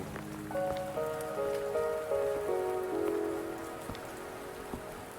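Steady rain pours in the game Wuthering Waves, a continuous wash of patter that holds throughout under layered soft musical tones, with no talking.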